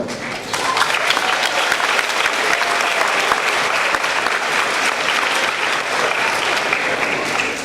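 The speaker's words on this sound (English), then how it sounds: "Please give a round of applause" Steady, dense applause from an audience at a school dedication ceremony, loud and continuous after a brief quieter opening, with no voices standing out above the clapping.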